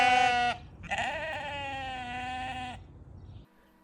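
A freshly shorn sheep bleats twice close by, a short loud call followed by a longer wavering one, with quiet background between them and no talking.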